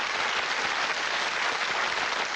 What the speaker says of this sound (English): Let's give them all a nice round of applause here,